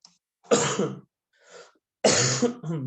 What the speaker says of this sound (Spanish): Perdón que ando con una tos.